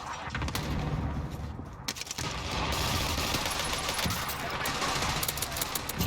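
Sustained automatic gunfire crackling on Rebirth Island in the video game Call of Duty, steady and fairly loud across the whole stretch, mixed with a low engine-like rumble of battle.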